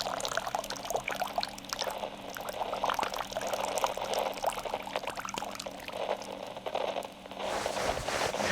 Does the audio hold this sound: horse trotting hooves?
no